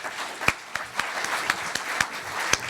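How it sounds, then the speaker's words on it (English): A small audience gives scattered, sparse clapping to the panelists at a Hong Kong maritime forum on shipmanagement, with distinct individual claps at a moderate level. "may I ask you to give the excellent panelists another round of applause?"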